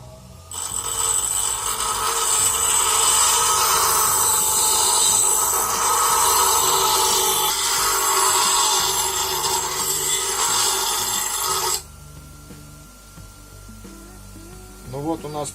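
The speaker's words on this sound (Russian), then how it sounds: "Это достаточно долгая муторная процедура на наждаке" A bench grinder shapes a steel splitting wedge blank, a loud continuous abrasive grinding that runs for about eleven seconds, then cuts off, leaving a quiet room with faint clatter.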